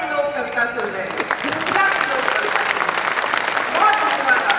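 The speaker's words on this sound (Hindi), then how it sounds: "एक बार जोरदार तालियां इस तरह बजाइए कि मुझे लगे कि पल-पल के लोग कविता सुन रहे हैं।" Audience at a Hindi kavi sammelan poetry recital breaks into sustained, dense applause, starting as a voice trails off and swelling into loud clapping that holds steady to the end.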